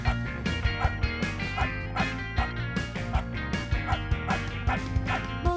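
Repeated dog barking as a sound effect in a Taiwanese children's song, bright short bow-wow yips landing in a rhythmic pattern over a bouncy music backing, prominent throughout.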